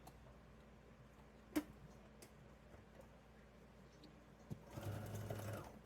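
A sewing machine stitches a fabric tote, starting after a couple of sharp clicks and running as a quiet, close mechanical whir for just over a second at the end.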